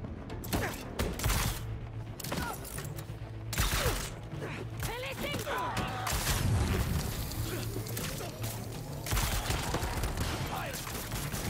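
Gunfire in the Marvel's Spider-Man 2 video game, a dense fusillade of shots and booms woven into a busy mix of game effects and voices that runs steadily throughout.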